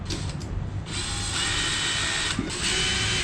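Screws are driven into an electric fan that would not spin during a repair, with a close, steady mechanical whirring and ratcheting broken by a couple of brief pauses.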